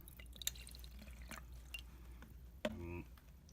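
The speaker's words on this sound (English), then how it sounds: "And I'm going to go ahead and pour my water in." Water is poured into a Keurig travel coffee maker in a quiet kitchen: a few faint drips, then a short burst of trickling and filling near the end, under low background hum.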